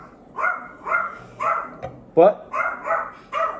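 Several dogs bark in a steady run of about seven sharp barks, each roughly half a second apart, close and fairly loud, with a brief word of speech slipped in between them.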